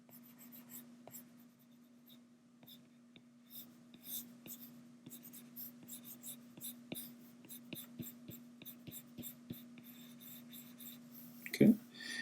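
A pen scratches lightly on paper while drawing a cartoon dragon's tail, with quiet, close, irregular short strokes over a steady low hum and a sharper knock near the end.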